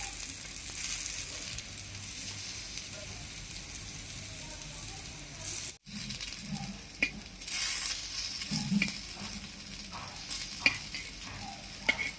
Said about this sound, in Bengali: দেখো কি সুন্দরভাবে ভাজা হয়ে যাচ্ছে, লাল লাল রঙের